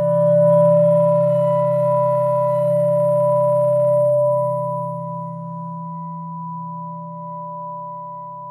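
Synth pad through a long convolution reverb tail, a loud sustained low drone with bright ringing upper tones that gradually thin out and decay over several seconds, with no voices.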